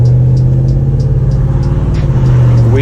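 A Whipple-supercharged Ford F-150 truck engine runs at a steady, loud idle, a deep droning rumble with faint periodic ticking on top, and no one talking.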